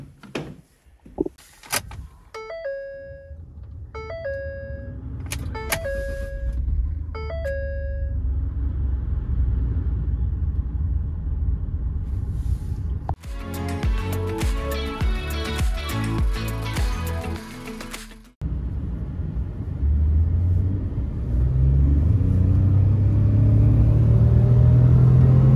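A Ford F150 3.5 V6 EcoBoost with a newly fitted high-pressure fuel pump cranks and fires after a few chimes and clicks, then settles into a loud, steady idle rumble, briefly cutting out before running again.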